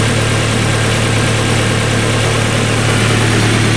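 A 1999 Nissan Sentra GXE Limited Edition engine idles just after start-up, a loud, close, steady hum with a low drone that holds even throughout, with no voices.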